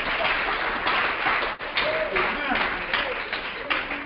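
A church congregation claps in praise, a steady, dense patter of many hands that carries on under a preacher's voice.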